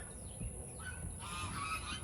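Waterfowl honk and call faintly at a distance over a steady background hum, several short calls in a brief stretch.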